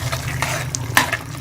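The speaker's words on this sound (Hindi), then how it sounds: "आलू को भी हम मसाले में अच्छी तरह से भून लेंगे ताकि मसाला जो है वो आलू में अच्छी तरह मिक्स हो जाए।" Potatoes fry in spice masala in a pan, giving a continuous close sizzle with scraping spoon strokes and small clinks as they are stirred.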